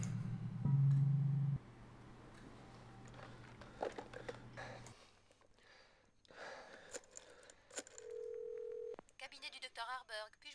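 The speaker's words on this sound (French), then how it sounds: "On va essayer d'appeler le docteur quand même." Telephone in the game Phantasmagoria 2 calling a doctor: a loud dial tone, dialing beeps, then a steady ringback tone, with a gasp and brief talk in between.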